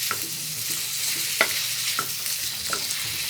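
Minced meat keema with added fat sizzles on a tawa, a constant bright hiss broken by several light clinking stirs of a spatula, close and steady.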